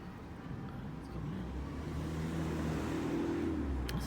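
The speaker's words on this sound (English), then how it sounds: "Usually that car speeds up and then revs up the engine." A car at night speeding up, its engine hum building steadily from low to louder and holding a rising drone, heard from a distance, with no talking.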